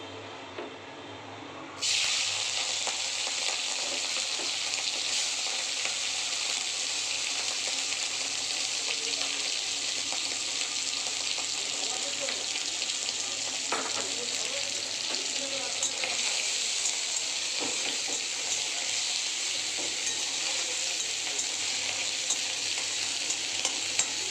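Prawns fry in hot oil in a pan for a prawn and bitter gourd curry. A loud, steady sizzle kicks in after about two seconds and hisses on continuously to the end, with no talking.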